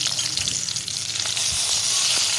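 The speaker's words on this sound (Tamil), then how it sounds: "எண்ணெய் காஞ்சிருச்சு. மிளகாயை முதல்ல போட்டுக்கிறோம்." Red chillies frying in hot oil in a pan for a coconut-tomato chutney, a steady, close, loud sizzle with crackling bursts running throughout.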